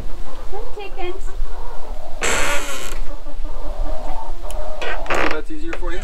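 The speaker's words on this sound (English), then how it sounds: "Come, chickens." Chickens cluck and fuss near a coop with newly built stairs, scattered calls over steady background noise and a loud burst partway through, with people talking around them.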